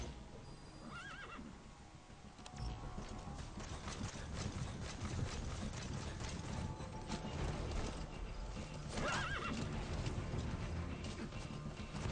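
Horse neighs twice and hooves clip-clop in Metal Gear Solid V: The Phantom Pain, the whinnies standing out near the start and again later over steady game ambience and movement noise.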